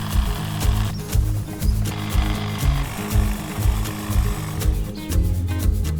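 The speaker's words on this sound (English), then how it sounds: "When it comes to maintaining them, I use the HLA 86." A STIHL HLA 86 battery hedge trimmer shapes topiary at a manor garden, its blades buzzing in short repeated bursts of steady cutting, close and fairly loud, with no talking.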